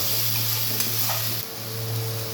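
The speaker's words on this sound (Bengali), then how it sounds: "এবার আমি আদা রসুনটা পেঁয়াজের সাথে ভালো করে মিশিয়ে নেব।" Ginger, garlic and onion stirred together in a frying pan with a steady low sizzle beneath, brief spoon scrapes near the start, continuous and fairly close.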